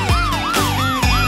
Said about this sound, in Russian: Застонали сирены